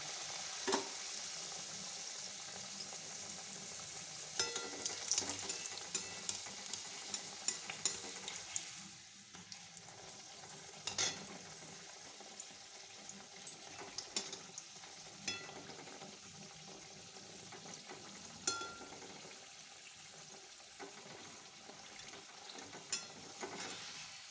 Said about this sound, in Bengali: আমি এবার একটা একটা করে ভেজে নেব এখানে আমার তেলও হয়ে গেছে